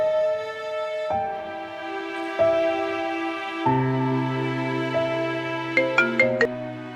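A mobile phone ringtone plays alone at moderate loudness: a stepping melodic tune of sustained electronic tones that ends in a quick run of short, bright notes.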